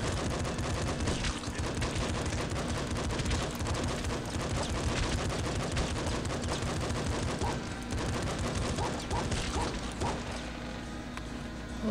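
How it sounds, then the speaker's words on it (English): Rapid automatic gunfire in the video game Nuclear Throne, dense rattling bursts that keep going for about twelve seconds with explosive game effects mixed in, loud and continuous. "Machine gun, eh?"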